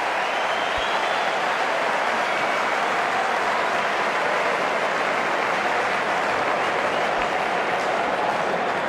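Cricket crowd at an Australia versus New Zealand Test applauding a six, a dense, sustained wash of clapping and crowd noise that stays loud and even for the whole stretch.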